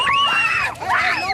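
A child screams loudly in two long, rising and falling shrieks with a brief dip between them, close and harsh over faint background noise.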